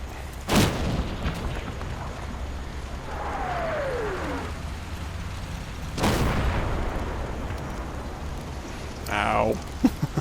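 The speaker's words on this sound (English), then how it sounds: "75mm strikes again." 75mm artillery shells strike in a Combat Mission wartime battle, with two sharp loud blasts a few seconds apart, a descending whistle between them and a crackling burst near the end.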